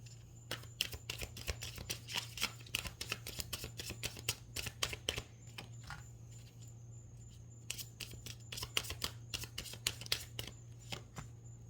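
Tarot cards are shuffled by hand in a quick run of crisp riffling snaps, close and fairly quiet over a low steady hum, with no talking.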